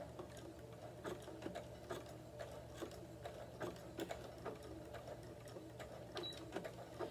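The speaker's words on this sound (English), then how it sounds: "Press the foot down, and then I'm going to sew." A sewing machine with a side cutter foot stitches steadily, giving a faint, quick mechanical chatter and rhythmic clicking with a low motor hum underneath.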